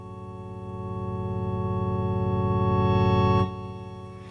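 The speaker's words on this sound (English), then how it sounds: "I'll just put an organ on to give you a demo of that fade" A sustained electronic organ chord from a small Casio MT-240 keyboard swells gradually, holds, then cuts off abruptly near the end, leaving a faint tail.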